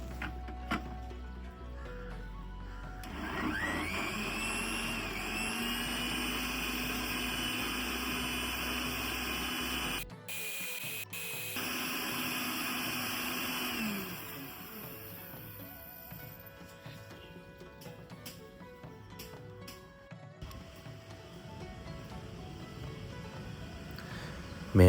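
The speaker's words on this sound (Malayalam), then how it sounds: "ഇനി മിക്സിയുടെ ജാറടച്ച് നമ്മൾ നന്നായി ബ്ലെൻഡ് ചെയ്ത് എടുക്കേണ്ടതാണ്." An electric mixer grinder blends mango shake with ice cream, its motor whining steadily up to speed, cutting off briefly, then running again with a rougher churning tone before stopping.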